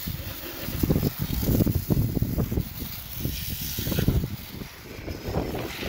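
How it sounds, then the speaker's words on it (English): Strong outdoor wind roars and gusts across a microphone during dirt bike engine degreasing, a steady broadband rush with buffeting low thumps that swells and eases throughout. "Ooh, that wind's howling."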